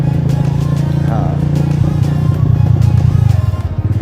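Motorcycle on a mountain road through a valley at Batakundi to Babusar Top: a loud, steady engine drone with rising revs and rattling toward the end, close to the rider, with wind buffeting.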